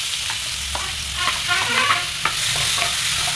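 A ground jackfruit thoran mixture hits hot oil with spluttering mustard seeds and is stirred, giving a loud, close sizzle broken by several scraping strokes of the spoon. No one speaks.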